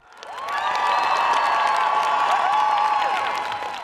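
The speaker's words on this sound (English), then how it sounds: "Look at the crowd in Prague in the Czech Republic." A large crowd cheers at a rally in Prague supporting Ukraine, a swelling roar of voices, whistles and whoops that holds loud and steady.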